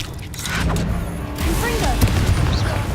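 Blasting spell explosions from a fantasy wizard game go off amid game effects, several low booms and thumps layered with clatter and background game sound across a few seconds, with speech-like voices mixed in.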